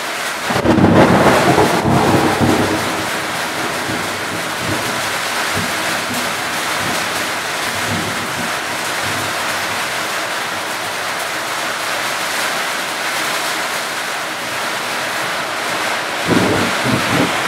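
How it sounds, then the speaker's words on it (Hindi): A hailstorm with heavy rain and thunder in Madhya Pradesh: a dense, steady roar of rain and hail fills the whole stretch, with a low rumble near the start and no talking. "पत्थर गिर रहे हैं हमारे इधर मध्य प्रदेश में।"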